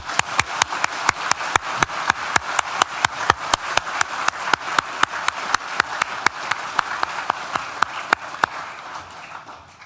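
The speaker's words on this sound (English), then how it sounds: "Please join me in thanking them with a well-deserved round of applause." Audience applause at a university graduation ceremony, a large crowd clapping in a fairly regular rhythm of sharp, evenly spaced claps that gradually fade toward the end.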